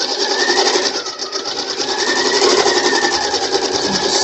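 Close, loud and continuous, a sewing machine runs at a steady fast pace, stitching around a piece of fabric, its rhythmic mechanical whir filling the whole stretch without pause.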